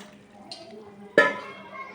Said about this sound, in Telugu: ఇదో లీటర్ నీళ్ళు పోస్తున్నాను